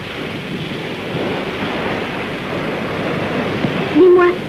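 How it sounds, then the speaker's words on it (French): Sea waves and surf roll in and out along a shore, a steady, loud wash of breaking water with wind, continuous and close, with a brief voice-like sound near the end. "jamais elle s'arrête d'avancer et de reculer. C'est la marée."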